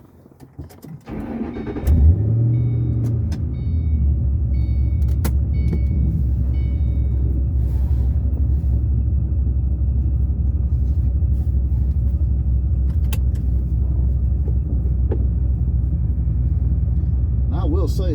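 A Paxton-supercharged 3V Mustang with 550 rear-wheel horsepower fires up, then settles into a steady, loud, deep rumble as it drives on the road, running cold, with a brief supercharger whine early on.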